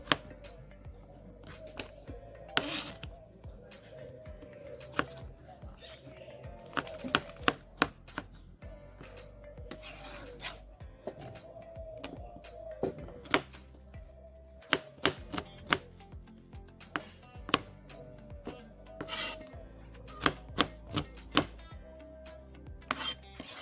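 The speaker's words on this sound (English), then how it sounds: "now we're gonna cutting up our Irish potato" A knife chops Irish potato on a cutting board in a home kitchen while a Jamaican breakfast is prepared, giving a long run of close, irregular sharp taps and scraping.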